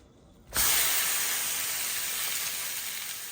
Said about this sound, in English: So it's time to put a little sear on this roast.